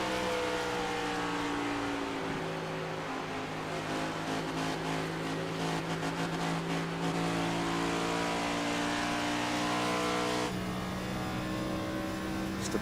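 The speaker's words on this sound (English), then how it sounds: "you hear it, that little rev, rev, rev, rev, and then off he goes" A NextGen Cup race car in the iRacing video game at Homestead-Miami Speedway, its engine droning and revving in rising harmonic sweeps with brief throttle blips, loud and close, then climbing again near the end, with no talking.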